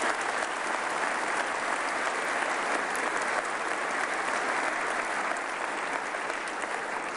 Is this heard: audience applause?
yes